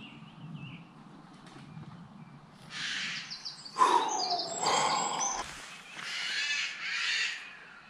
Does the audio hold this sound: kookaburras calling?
yes